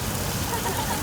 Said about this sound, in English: Now for the rain, it's a completely different technology. It's really high tech. It's called sprinklers.